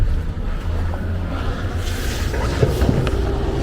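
Refrigerant leaking from the muffler of a Rheem heat pump makes a loud, steady broadband hiss that runs without a break for the whole stretch.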